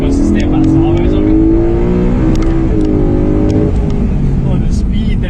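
A car pulls hard out of a corner in second gear from low RPM, its engine note climbing steadily in pitch as it gains speed, loud and close, with someone talking over it.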